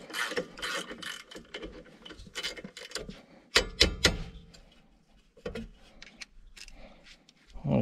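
Socket wrench ratcheting as it undoes a rear brake bracket bolt on a Mitsubishi Delica, with loud clicking bursts in short, irregular runs separated by brief pauses.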